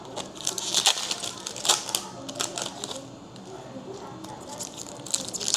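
Union Arena trading card packs being torn open by hand, repeated crinkly foil rips and crackles in short bursts, close up, with a voice talking at times underneath.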